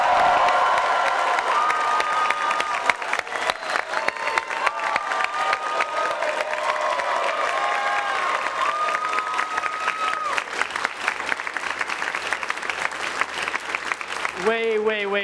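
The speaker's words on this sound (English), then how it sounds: "Can I get a big round of applause for this?" A large crowd applauds and cheers with whoops and shouts at a stock exchange bell-ringing event marking Lyft's public listing, sustained dense clapping and voices rising together, loud and close.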